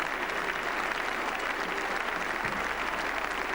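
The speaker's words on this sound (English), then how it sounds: "and getting the cheer he deserves" A cricket crowd at Lord's applauds and cheers a batsman during the 1980 England v West Indies Test match, a dense, steady wash of clapping that fills the whole stretch without letting up.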